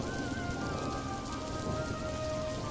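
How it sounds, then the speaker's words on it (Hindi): Steady rain patters on surfaces, a dense even hiss with no voices. "बारिश शुरू हो गई"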